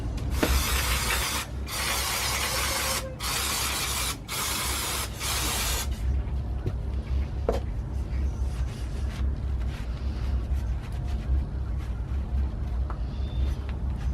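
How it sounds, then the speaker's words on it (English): Brake cleaner hisses out of an aerosol can onto brake calipers in several loud bursts, separated by brief pauses. Quieter handling and clinking follow once the spraying stops. "I'm just going to hit them with some brake cleaner just to remove any loose debris on them."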